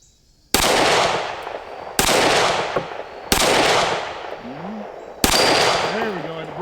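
Four separate pistol shots ring out from a Sig P365 fitted with a Wilson Combat grip module, fired at a 4-inch steel plate on a range. Each is a loud sharp crack with a ringing decay, spaced over a second apart, and faint metallic pings follow the later ones.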